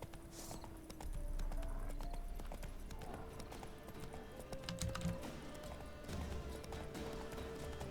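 Horse hooves clip-clop steadily on the ground in The Witcher 3, a continuous mid-level trot under game ambience and faint musical tones, with no talking.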